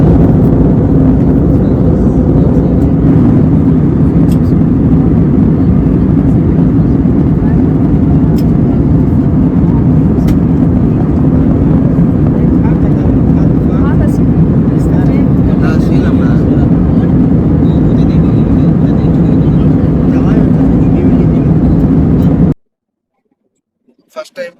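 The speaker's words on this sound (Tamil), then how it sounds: "ஃபர்ஸ்ட் டைம் ஃப்ளைட்ல பறந்துட்டு இருக்கோம் ஃப்ரெண்ட்ஸ்" Steady, loud low-pitched roar of passenger jet cabin noise during a flight from Shirdi to Chennai, droning continuously before cutting off abruptly near the end.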